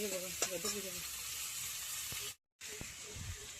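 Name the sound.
ridge gourd being fried and stirred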